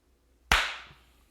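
A single sharp hand clap marks a sync take on a film set, loud and close, with a short decaying ring and no other sound around it.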